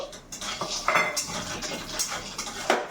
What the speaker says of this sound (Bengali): তো দেখো বাদাম এটা ভেজে নিচ্ছি